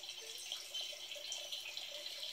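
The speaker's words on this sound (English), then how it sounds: "the water just keeps filling up until it hits that stick, the top of that standpipe there" Water runs steadily into aquaponics grow beds filled with media, fed from a standpipe, making a continuous gentle trickle and splash with no voices.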